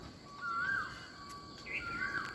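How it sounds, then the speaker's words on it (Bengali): In the morning, a koel sings two rising, whistled calls, fairly clear at moderate distance over a faint hiss of insects and outdoor ambience. "কত সুন্দর মধুর সুরে ডাকছে কোকিল"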